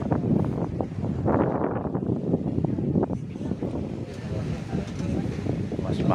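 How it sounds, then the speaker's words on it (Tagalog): Strong gusts of wind buffet the microphone in loud, rumbling bursts throughout, with outdoor ambience underneath, in Cordova, Mactan, Cebu. "Simoy ng hangin, sarap."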